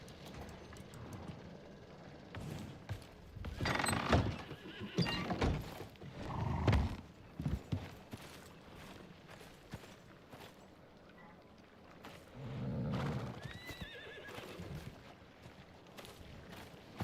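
A horse in the survival video game Icarus gives a neigh and moves with muffled hoofbeats amid game ambience, with a few louder bursts and someone talking over parts of it.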